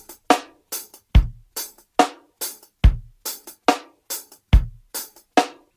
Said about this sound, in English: But immediately it sounds like a reggae kit.